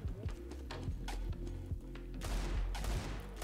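Gunshots in a Roblox Counter-Strike style shooter, a series of sharp shots scattered through the clip over busy game sounds, with a denser burst of firing toward the end.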